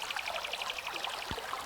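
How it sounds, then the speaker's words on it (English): A little spring trickling down into a pond, a soft, steady burble and drip of running water, faint and close, with no voices. "Sound of the little spring flowing down into the pond, causing little ripples in the water"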